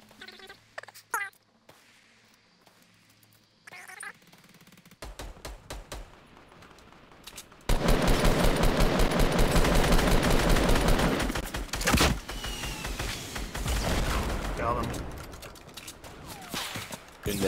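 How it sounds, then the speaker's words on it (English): Machine gun fire in a video game, starting as scattered sharp pops and short bursts, then swelling into a long, loud, dense stretch of continuous rattling fire with further bursts trailing behind. "now we're getting shot from above as well"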